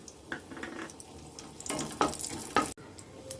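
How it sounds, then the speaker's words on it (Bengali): Dried red chilies frying in hot oil in a Bengali kitchen, a steady soft sizzle with a few stirring scrapes and brief sharper crackles, close and moderately quiet with no talk. "এবার ওই তেলে দুটো চিড়ে রাখা শুকনো লঙ্কা,"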